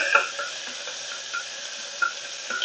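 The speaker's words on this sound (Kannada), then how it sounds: "ಈರುಳ್ಳಿನೂ ಕರಿಬೇವಿನ ಸೊಪ್ಪು ಹಾಕ್ತಾಯಿದ್ದೀನಿ" Onion and curry leaves frying in hot oil with mustard seeds, a steady close sizzle broken by a few soft stirring scrapes in the pan.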